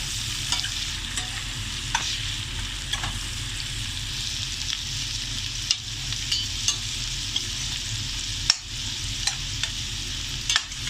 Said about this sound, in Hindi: थोड़ा सा ये अदरक लहसुन फ्राई हो गया है